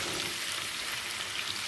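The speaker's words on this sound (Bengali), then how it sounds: "সরাসরি তেলেতে লবণ আর কাশ্মীরি লঙ্কার গুঁড়ো দিয়ে ভেজে নেব।" Paneer cubes frying in oil with salt and Kashmiri chili powder give a steady, close, dense sizzle that runs evenly throughout with no voices.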